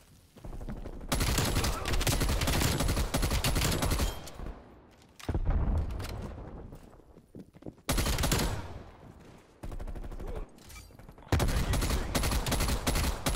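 A KSP 45 fires in Call of Duty Cold War, loud gunfire in several long bursts separated by brief pauses, with close, punchy reports.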